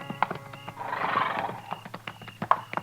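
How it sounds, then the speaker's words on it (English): Horses in an old-time Western radio drama: a loud whinny swells in the middle while hooves clip-clop in an uneven rhythm throughout, close and clear, with no voices. "This man's got horses."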